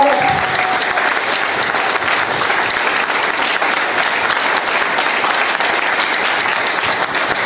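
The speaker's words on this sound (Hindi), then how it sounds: "अब ताली ऐसी बजा देना सर" Sustained, loud applause from a seated audience at a motivational mentorship event, continuous dense clapping that holds steady from start to finish.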